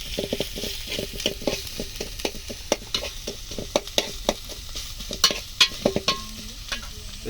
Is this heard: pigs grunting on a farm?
no